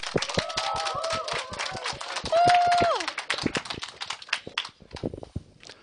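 An audience claps and cheers, with a few whistles, to welcome a speaker onto the stage at a corporate sales and marketing talk. The applause is dense and steady, then thins into scattered claps.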